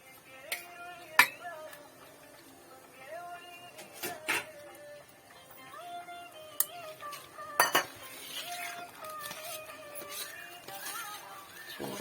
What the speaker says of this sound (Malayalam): നമ്മൾ തവിയോ എന്തെങ്കിലും വെച്ച് ഇങ്ങനെ ഇളക്കി കുഴച്ചിട്ട്